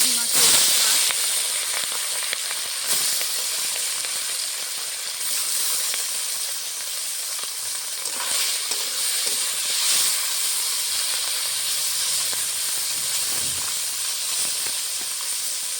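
Turmeric dropped into hot mustard oil in a wok while frying fish, giving a steady, loud hiss and sizzle that runs throughout with little change.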